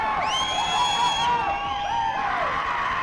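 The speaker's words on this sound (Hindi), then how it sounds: "ये चीयरिंग देखिए" A crowd at a Yuva Kabaddi Series Division 1 match cheers loudly, with high whoops and shrill whistling hoots rising over a steady roar of voices.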